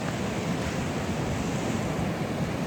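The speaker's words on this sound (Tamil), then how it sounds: "வேவ்ஸ் வந்து கரையில் வந்துட்டு அப்படியே ரிட்டர்ன் வந்து ஓடும் கடலுக்கு." Ocean waves wash onto the shore at San Francisco's Sunset District and run back out, a steady loud roar of surf and wind with no break and no voices.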